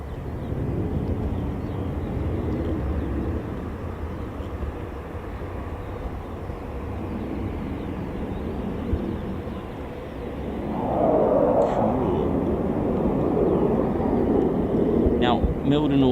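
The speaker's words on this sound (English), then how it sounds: "I did hear a MC-130 start up." MC-130 aircraft engines start up at RAF Mildenhall, a heavy, steady low rumble that swells louder partway through, with a voice talking over it.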